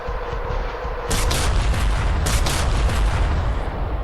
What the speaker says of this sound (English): Okay, artillery.